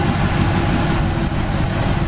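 A tuned-up 1966 Chevy Impala Super Sport engine with new plugs and wires runs at a steady idle, a loud, close, continuous low rumble with no voices.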